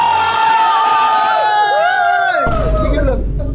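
A crowd shouts and cheers loudly together, rising whoops and yells layered over one another, then a burst of heavier roaring and clapping noise near the end.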